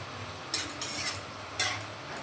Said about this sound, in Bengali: সবজির জুস বেরিয়েছে ওতে আমি সবজিটা একটু কষিয়ে নেবো